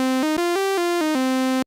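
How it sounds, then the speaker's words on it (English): Bright, buzzy sawtooth-oscillator notes from a vintage Korg MS-20 analog synthesizer step up and back down in a short continuous phrase, rich in harmonics, played alone and close. "Here is the sound of the sawtooth oscillator"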